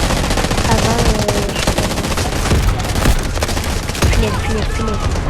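Heavy gunfire in the Delta Force shooter game, with loud, close, sustained automatic bursts and scattered impacts, and brief squeaky sounds mixed in.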